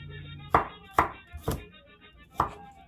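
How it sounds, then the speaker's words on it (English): Knife slicing garlic cloves on a wooden board for Italian-style broccoli rabe: four crisp, close chops, three in a steady rhythm about half a second apart, then a pause before the fourth. "right now I'm just slicing it"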